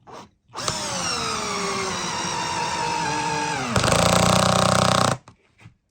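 A 2008 Makita power drill drives a large torque-head screw with a loud, steady whine that slowly sags under load. It then shifts into a harsher, grinding buzz before cutting off abruptly.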